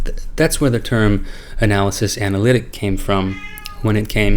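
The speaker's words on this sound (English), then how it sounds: "That's my cat. He's going to interrupt us every once in a while." A house cat meows repeatedly, close and loud, its calls overlapping and mixed in with someone talking throughout.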